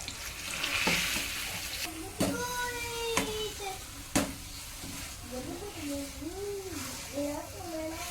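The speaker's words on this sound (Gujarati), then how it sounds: "બધા એમાં ઘી પડે જાય એવી રીતના હલાવવાનું" Sweet potato shiro being stirred in ghee in a pan, a steady soft sizzle with scraping stirs and a few sharp utensil knocks, while a voice talks over it.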